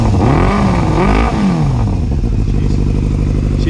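A 2005 Yamaha YZF600R Thundercat with an aftermarket Delkevic exhaust runs close by, loud and throaty, its engine note swooping up and down through a few revs before settling into a steady, rumbling idle.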